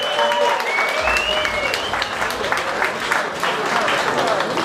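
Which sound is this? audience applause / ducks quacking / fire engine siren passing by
audience applause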